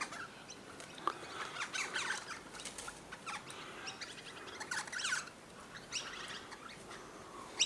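Two magpies feeding, their scattered chirps and harsh calls coming in bursts at moderate distance over a faint outdoor background, with brief rustling sounds between calls and no talking.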